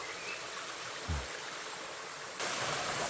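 A waterfall near Vang Vieng, Laos, pours into clear water below, making a steady, close rush of flowing water that continues alone throughout.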